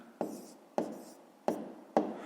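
A pen writes down a math answer on paper in four short, evenly spaced strokes, each a quiet scratch that quickly fades, close and alone with no talk.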